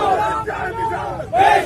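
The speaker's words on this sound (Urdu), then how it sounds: "اس کا جنازہ سنیں ذرا لوگ کیا نعرے لگا رہے" A large crowd at a funeral shouts slogans in unison, rising and falling in rhythmic chanted bursts, loud and close.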